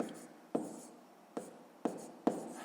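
Pen strokes on paper while a math exercise is written out by hand, four distinct taps and scratches spaced irregularly, close and quiet, with no voices.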